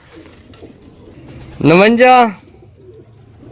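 A pigeon coos in a short, loud burst of rolling, warbling calls amid ongoing conversation.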